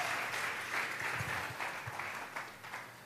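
Church congregation clapping together, a sustained dense roll of many hands in a large room that carries on throughout with faint voices beneath.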